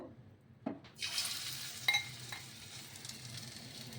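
Thankuni leaf fritters dropped one by one into hot oil, with a couple of soft plops and then a rising, steady sizzle of frying at moderate loudness, no talk.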